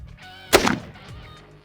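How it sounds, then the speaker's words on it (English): A single loud, sharp blast from a 300 Win Mag rifle fired outdoors into brush, a sudden crack with a brief booming decay that fades out within a fraction of a second. "So we're shooting the 300 Win Mag"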